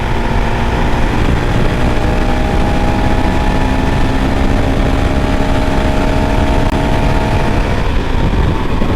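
A 2022 Honda CRF450RL dirt bike engine runs steadily while riding on a winding road through sharper turns, a loud continuous drone with sustained tonal whine and wind rush throughout, with no pauses.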